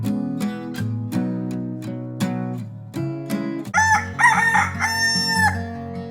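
Chickens cluck close by and a rooster lets out a loud crow near the end.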